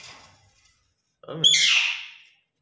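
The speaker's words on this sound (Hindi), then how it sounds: "हाँ, मैना को बुला रहा हूँ, तुम्हें थोड़ी बुला रहा बेटा।" A pet myna bird gives a single loud, harsh call, close and clear. It is preceded by faint, brief sounds and then quiet.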